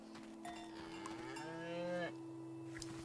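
A cow moos in the video game Season: A Letter to the Future, one long drawn-out bellow rising and then breaking off, with a soft cowbell clink and quiet game ambience around it.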